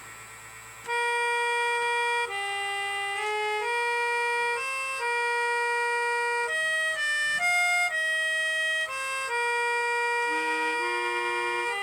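A Bontempi B1 reed organ plays a melody in sliding, sustained tones imitating a Yamaha music siren, each note gliding into the next with a bright, reedy, continuous buzz, loud and alone.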